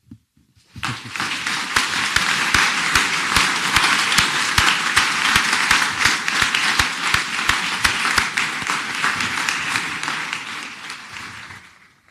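Steady, loud applause from a large crowd at a university conferring ceremony, sustained for about eleven seconds before tapering off slightly at the end.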